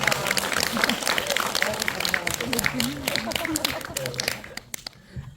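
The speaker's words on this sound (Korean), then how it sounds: "여러분 박수 한번 부탁드리겠습니다." A film festival audience at a post-screening Q&A applauds steadily with dense clapping that tapers off near the end, while a voice talks over it.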